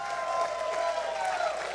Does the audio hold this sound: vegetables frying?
no